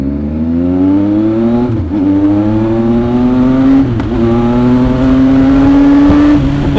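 A Kawasaki ZX-25R motorcycle engine revs up loudly and close on a leisure ride, its high-pitched whine climbing steadily, with brief dips at gear changes before it pulls higher again.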